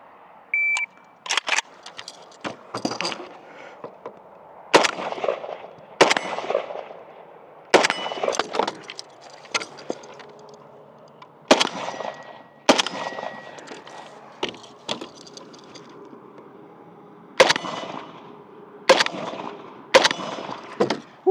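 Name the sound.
Zastava M90 rifle shots hitting steel targets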